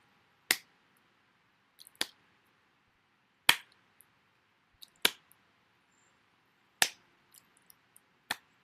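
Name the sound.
hand clapping during kundalini activation exercise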